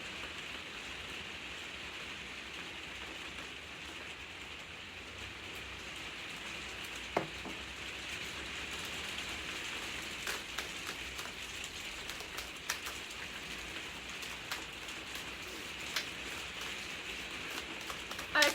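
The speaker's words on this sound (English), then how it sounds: "because the rain is getting very loud." Steady heavy rain pours down in a continuous, even hiss, with occasional louder drops and patters standing out against the constant wash.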